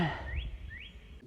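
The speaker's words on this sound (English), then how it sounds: "there are birds all around" Birds whistling and chirping outdoors in the morning beside a sycamore, two clear rising whistles standing out over a low background rumble, fairly close and moderately loud.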